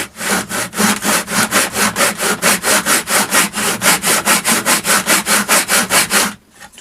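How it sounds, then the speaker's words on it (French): A saw cuts through reclaimed wood planks in steady, rapid back-and-forth strokes, about four a second, loud and close with no talk, then stops abruptly at the end. "je vais descendre progressivement la partie avant de ma scie pour que ça fasse tomber les planches une à une"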